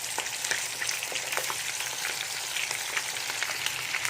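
Liver sizzles and fries hard in a very hot pan, a dense, steady crackling hiss that stays up close and constant throughout, with no talking.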